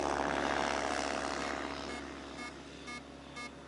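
A tug aircraft towing a light glider at a regatta day, its propeller engine droning loudly at first then fading slightly as it moves away, with faint intermittent tones later.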